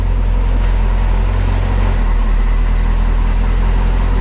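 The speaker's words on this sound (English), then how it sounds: "Wheels spinning backwards." A car idling with an engine hum at a steady rumble, running in reverse as its wheels spin backwards, with a brief higher whine early on before it settles into a constant low drone.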